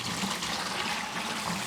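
Tea mixture is poured into a container of elderflower wine, giving a continuous close, splashy liquid gush with no talk.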